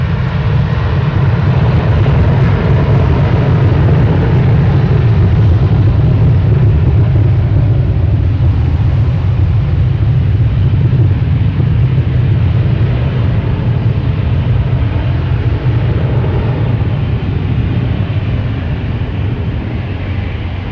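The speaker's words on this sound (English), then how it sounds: "Is that United taking off finally?" A United airliner taking off at Boston Logan Airport gives a steady, loud jet roar with deep rumble that barely changes across the whole stretch.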